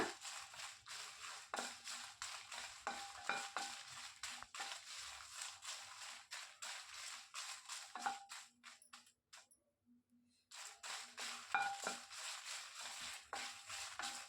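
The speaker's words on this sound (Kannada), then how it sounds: "ಇದು ಕೂಡ ಡ್ರೈ ಆಗಿ ಹುರ್ಕೋತೀನಿ ಯಾವುದೇ ಥರ ಆಯಿಲನ್ನು ಅಪ್ಲೈ ಮಾಡೋದಿಲ್ಲ" Dried Byadgi and Guntur red chillies are tossed in a pan without oil, giving repeated light scraping and crackling stirs at an irregular rhythm, close and quiet, with a brief pause near the end.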